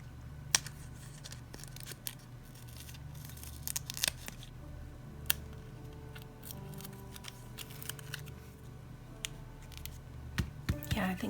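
Scissors snipping during a paper craft project with embossing folders and stamps, a series of quiet, sharp cuts scattered irregularly over soft background noise, with a voice speaking faintly at times.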